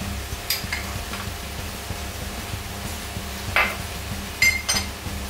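A utensil stirs eggs, flour and sugar together in a bowl in a home kitchen, with soft repetitive scraping and a few sharp clinks against the bowl.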